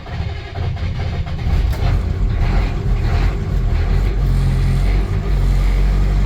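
An International crew cab truck engine running on a cold morning in the 40s, a loud, steady low rumble that holds at full strength for several seconds.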